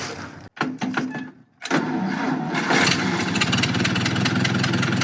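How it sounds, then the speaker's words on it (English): John Deere model 40 crawler engine cranking with a few sputters, a brief pause, then catching and settling into a steady, loud, diesel-like run close by, no talk. "And it runs like a diesel once it starts."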